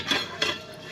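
A spoon stirring firm vegetables, potatoes, peas and cauliflower, in a pot for vegetable biryani, with two quick scraping clinks against the metal, close and alone.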